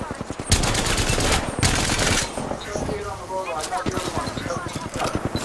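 Rapid gunfire in Apex Legends as a player is shot from behind while climbing, sharp bursts of fast repeated shots mixed with game sounds and some talk.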